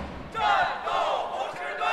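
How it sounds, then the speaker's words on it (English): Football fans outside a stadium before a cup match, a loud crowd roar with shouting voices swelling in after a brief pause and holding steady, a few bumps and thuds beneath. "Fans were already outside the stadium, cheering for their home team"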